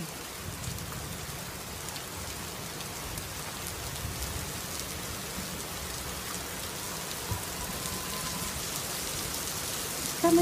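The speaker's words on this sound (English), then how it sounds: "This is nice when you hear the rain." Heavy rain pouring down steadily during a thunderstorm, a dense, even hiss of drops on surfaces, fairly quiet and continuous with no voices.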